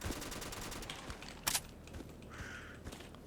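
Rapid bursts of AK rifle fire in S.T.A.L.K.E.R. rattle fast and dense, fairly quiet, broken by one sharp louder crack and a few scattered shots.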